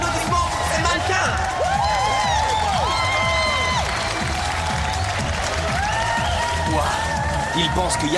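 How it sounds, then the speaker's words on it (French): Sustained audience applause and cheering for models at a fashion show on a French family TV program, steady and full throughout, with a host's voice and crowd whoops over the clapping. "Je veux entendre plus d'applaudissements pour ces mannequins."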